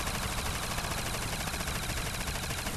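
Upgraded Type 99 machine gun in Call of Duty World at War custom zombies mode, firing a dense, continuous stream of loud automatic bursts that fill the whole stretch without a break.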